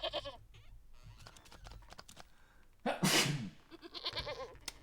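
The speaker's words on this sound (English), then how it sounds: "There is a goat in my house." A goat bleats inside a house in the video game Wytchwood, a short loud nasal cry arriving midway after quieter game sounds, followed by softer bleating bursts near the end.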